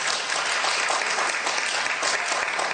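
An audience claps in a dense, loud, even burst of applause that carries through without pause and with no voices on top.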